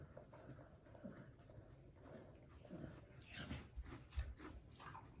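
A pen scratches out music notes on paper while explaining a concertino part, with soft, irregular strokes and scrapes close by, fairly quiet throughout.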